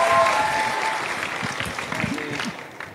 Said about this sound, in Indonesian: Tepuk tangan mahasiswa Fakultas Hukum.